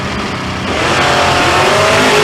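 A drag-racing Pontiac Firebird and Chevrolet Camaro launch side by side at an outlaw drag race, a loud, continuous engine roar that swells and builds as the cars pull away.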